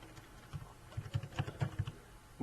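Keyboard keys tapped while typing HTML code on a computer keyboard, a quick irregular run of soft, close clicks, quiet and alone.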